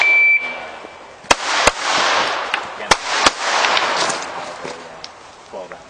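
Several sharp gunshots from a small backup pistol crack out at uneven intervals at a shooting range, loud and close, with a voice talking between the shots.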